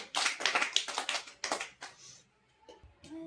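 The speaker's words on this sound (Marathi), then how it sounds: "सगळ्यांनी टाळ्या वाजवा." Children clapping their hands together in a classroom, a burst of quick, close claps for about two seconds that fades into quiet with a few faint noises after.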